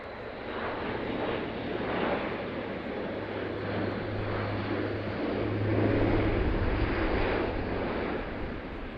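A German Air Force Airbus A400M turboprop transport flies past at an airshow, its engines a loud, steady roar that swells slightly mid-pass and holds throughout, with no voices.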